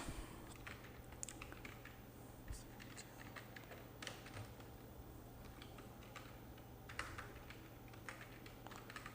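A computer keyboard clatters faintly during data entry in an Excel spreadsheet, with irregular bursts of keystrokes at a quiet room level and no talking.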